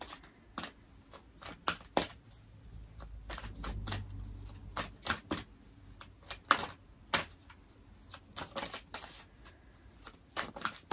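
Tarot cards being shuffled, heard as quick, irregular snaps and riffles at close range. The sound comes in clustered bursts separated by brief pauses, over a soft background hum.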